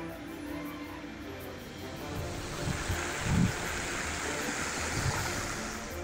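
A mountain waterfall and stream along the Annapurna Base Camp trek, near bamboo forest, rush as a steady, broad, moderately loud wash of water with a few brief knocks over it.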